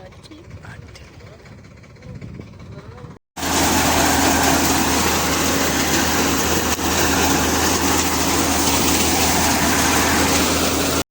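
After a brief quieter stretch, a threshing machine's engine roars to life beside a tractor and keeps running at a steady, heavy drone close by.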